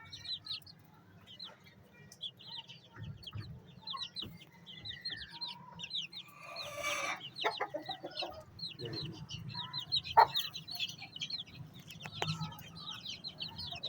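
Chicks and chickens of a cross breed kept at home cluck and chirp steadily at close range, with scattered higher peeps and a few louder squawks over a low background hum.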